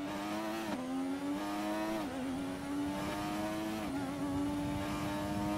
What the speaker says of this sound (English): 3 laps of the Suzuka short circuit in the McLaren MP4-4, possibly the most dominant Formula 1 car of all time